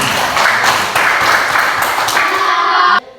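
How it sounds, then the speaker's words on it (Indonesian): A classroom of students claps hands together in a loud, dense burst of applause that stops abruptly at the end. "Iya, kita tepuk tangan dulu."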